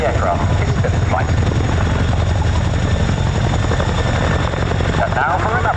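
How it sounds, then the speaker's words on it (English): A Chinook helicopter balances on its aft wheels at an RAF Cosford air show, its rotors producing a loud, continuous throbbing roar that stays steady throughout, with a voice faintly under it. "uses the unique aerodynamic qualities of the Chinook to balance on its aft wheels"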